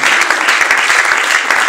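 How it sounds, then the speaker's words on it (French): Dense crowd applause at an awards ceremony, steady and loud throughout with no voices over it. "Sous les applaudissements, Karim Pala, pour remettre le prix de l'excellence."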